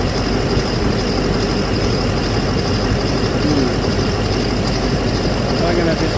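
A 2007 GM Duramax LMM diesel engine idles nearby, a continuous dense low rumble with steady clatter; someone speaks over it.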